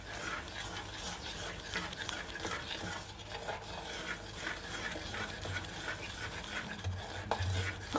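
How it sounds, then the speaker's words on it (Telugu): A spoon works ghee into sponge cake batter in a bowl, giving a steady, close scraping and swishing stir with soft clicks against the bowl, continuous and fairly quiet, with no talking. "చక్కగా కలిసేలాగా కలుపుకోవాలి స్పూన్ కానీ గరిటె కానీ ఏదైనా పట్టుకుని."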